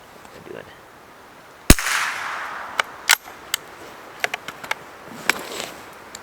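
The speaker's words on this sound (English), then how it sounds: "Do a few more and then we'll get shooting, or on target, I guess." Schultz & Larsen Otterup rifle firing cold .22LR ammunition outdoors in snow: one sharp crack followed by several lighter, scattered snaps and clicks of the action.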